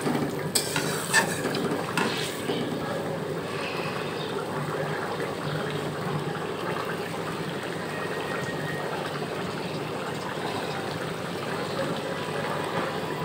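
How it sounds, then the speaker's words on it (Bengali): An eggplant and egg curry gravy comes to a boil in a pan over oil, a continuous soft bubbling and sizzle held steady at close range, with a few brief stirring clinks at the start. "বলক এসে গেছে দেখো। এরপরে আমি এক এক করে ডিমগুলো দিয়ে দেব।"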